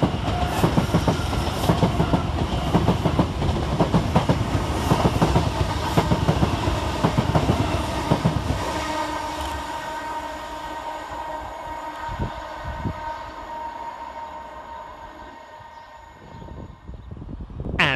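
Two coupled Govia Great Northern Class 387 electric units pass through Bowes Park station on the King's Lynn to King's Cross service, a loud close rumble with wheel clatter over the track that slowly fades as they move away.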